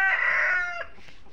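A Tiger breed chicken on a farm gives a single loud, close crowing call lasting about half a second, followed by a quieter trailing cluck.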